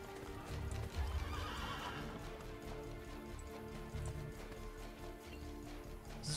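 Horse in the video game Assassin's Creed: Brotherhood neighing loudly near the start while steady hoof clip-clops run throughout, close and prominent, with no talk over it.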